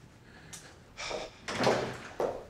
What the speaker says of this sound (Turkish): Naciye kapıyı aç, Tahsin geldi